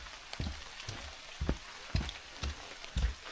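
Light rain falls in a kauri forest, scattered soft drips and patters landing irregularly over a quiet, damp background.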